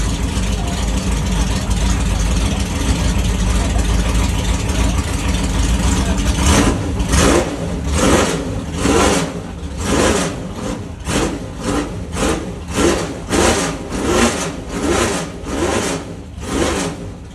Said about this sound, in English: he sort of gives me the little wink and just sort of gives it this sort of fantastic blast on the throttle